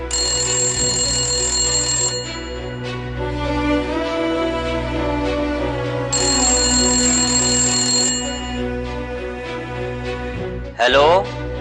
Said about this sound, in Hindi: त्या दिवशी भोपाळच्या मुख्यमंत्र्यांच्या घरचा फोन पहाटेच खणखणू लागला होता।